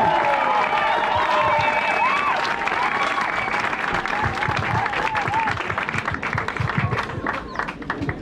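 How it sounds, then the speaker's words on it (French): A large outdoor crowd at a political rally in Kango, Gabon, claps and cheers loudly and continuously, with shouts and whistles mixed into the dense applause. "j'aimerais qu'on l'accueille et qu'on l'acclame très très très fort"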